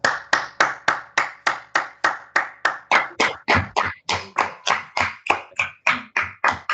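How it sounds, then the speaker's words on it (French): A church congregation claps together in a steady, even rhythm, about three claps a second, each one a sharp, full-bodied crack from many hands, continuing with no voices. "Applaudissons pour le Seigneur."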